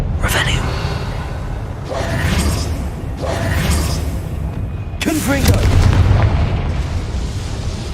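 Hogwarts Legacy video game combat with a Confringo fire spell, a series of heavy booming explosions bursting out every second or two over rumbling background noise, with a voice speaking a few words over the action.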